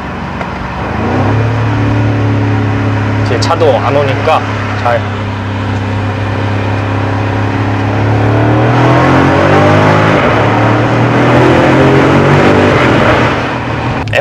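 BMW M550i accelerating hard in a tunnel, a deep engine note rising steadily in pitch as it winds up, with a brief shift dip midway and a reverberant roar building again, heard from inside the car while occupants talk over it.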